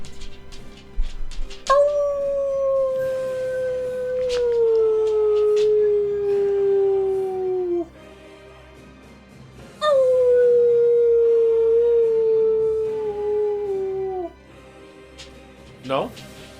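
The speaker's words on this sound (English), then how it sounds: "Does your dog howl like that?" A dog howls in two long drawn-out wails, each sliding downward in pitch over several seconds with a brief pause between, loud and close, followed by a short yip at the end.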